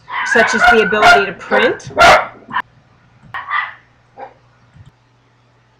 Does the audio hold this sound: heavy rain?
no